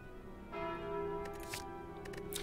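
A sustained bell-like chime rings out from the Calling Bell relic in the game Slay the Spire, with a layered tone swelling and holding, topped by brief bright shimmering accents.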